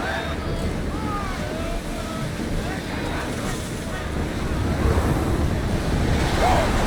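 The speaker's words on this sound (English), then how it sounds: "Feel that wind!" Wind gusts blow steadily at sea aboard a ship in Assassin's Creed Odyssey, a loud broad rushing noise that swells toward the end, mixed with faint splashing water and distant shouts.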